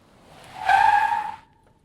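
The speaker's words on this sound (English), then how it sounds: "Then there was the sound of a car stopping outside the house." A car's tires squeal and skid for about a second as it brakes to a stop, fairly loud and close, with nothing else around it.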